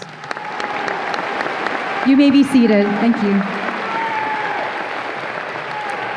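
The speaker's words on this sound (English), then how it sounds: "Everyone, please give our distinguished guests a round of applause" Audience applause at a commencement ceremony for distinguished guests, steady clapping throughout with a voice speaking briefly over it near the middle.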